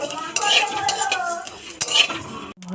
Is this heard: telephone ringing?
no